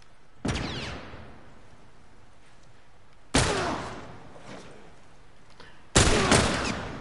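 Three separate loud bursts of gunfire from The Last of Us, each a sharp crack with a decaying tail, spaced a few seconds apart and heard alone without talk.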